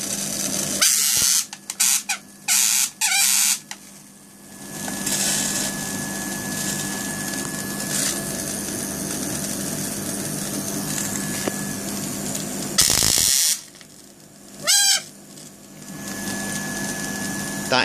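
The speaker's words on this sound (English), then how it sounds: "You can certainly hear the variac pulling the current." Variac humming under load as it pulls current for a small IGBT-package ZVS driver, a steady electrical drone broken by sharp bursts of arcing crackle and buzz near the start and again later.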